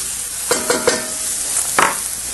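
Minced garlic sizzling in a hot pan with sauce ingredients, a steady broadband fry broken by a few sharp stirring scrapes, close and moderately loud, with no voices.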